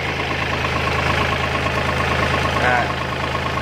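A farm tractor engine idles close by while cassava is planted, giving a steady, even low rumble with a regular pulse throughout.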